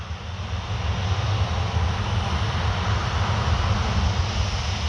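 Wizz Air Airbus A321 jet accelerating on the runway for a standing takeoff at Paris Orly Airport, a loud steady engine roar with deep low rumble and broad hiss that holds constant throughout, with no voices.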